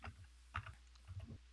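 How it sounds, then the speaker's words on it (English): Loud typing on a computer keyboard, a short run of close, distinct key clicks in two quick clusters separated by a brief pause, with nothing else audible. "Someone's loud typing."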